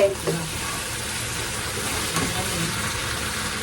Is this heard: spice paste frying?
yes